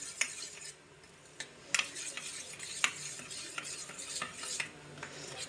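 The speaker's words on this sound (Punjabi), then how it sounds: "ਹੁਣ ਇਹਨਾਂ ਨੂੰ ਆਪਾਂ ਮਸਾਲਿਆਂ ਨੂੰ ਚੰਗੀ ਤਰ੍ਹਾਂ ਮਿਕਸ ਕਰ ਲੈਣੇ ਆ ਦਹੀਂ ਦੇ ਵਿੱਚ" A spoon stirs spices, turmeric and salt into yogurt in a bowl for an arbi dish, giving a steady wet scraping with sharp clinks against the bowl, close and without talk.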